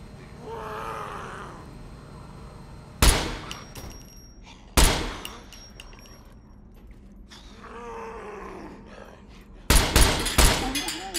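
Gunfire in the Scum survival video game comes as a few loud sharp shots, one around three seconds in, another near five, and a dense burst near the end, separated by quieter stretches of ambient game sound and growling.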